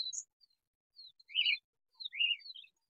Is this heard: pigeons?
yes